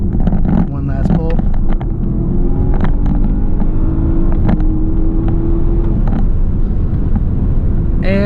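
A Porsche Panamera Turbo S E-Hybrid Sport Turismo accelerating hard in a pull, its engine note rising steadily under heavy wind buffeting, with brief bursts of speech near the start.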